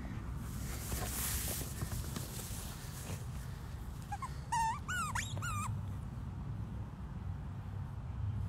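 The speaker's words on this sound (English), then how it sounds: "We got a doggy North Star too over here at the Truth Compound." A dog lets out a short burst of high, wavering whimpers and yelps midway through, fairly close, over steady outdoor background noise with no talking.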